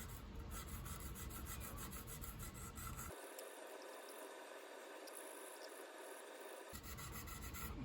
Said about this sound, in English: So for the heavy ones, I'm going to use my sanding stick.